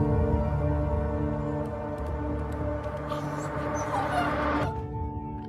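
CGI dog in the Mando & Grogu Super Bowl trailer, soft whimpering and small yips over a swelling music score, faint and mixed low before cutting off.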